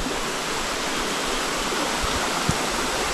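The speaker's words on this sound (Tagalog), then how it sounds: "Talagang yung batis, tuloy-tuloy, malakas ang tubig." A strong, steady rush of water flowing over a rocky stream bed fills the scene, continuous and close, with no voices.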